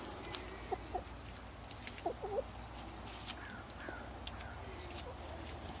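Chickens cluck softly in short bursts against a quiet outdoor background, with a few faint scattered calls.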